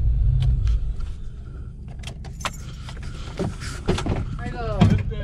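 A car engine idles steadily as a low continuous rumble throughout, with brief clicks and clatter on top and people talking nearby.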